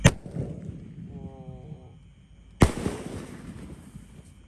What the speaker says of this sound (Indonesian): ini mercon yang meledosnya 2 kali paling besar di bawah dan di atas